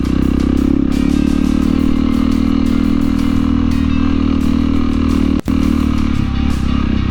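A Honda CRF 300L dual-sport motorcycle rides hard off-road on technical terrain, its engine droning loud and steady close by with continuous rattle and clatter, and one brief dropout near the end.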